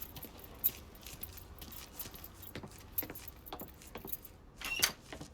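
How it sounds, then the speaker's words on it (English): Truck keys jangling as they are picked up in the video game Mafia 3, light metallic clinks scattered over a low background hum, with a brighter jingle near the end. "Lincoln, pick up the keys."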